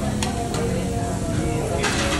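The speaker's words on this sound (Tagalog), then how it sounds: "nag-iihaw na po ang anak ko" Meat sizzling on a grill at a Korean barbecue and shabu-shabu restaurant, a steady close crackling hiss broken by a few light clinks of utensils and dishes.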